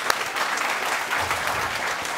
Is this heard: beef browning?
no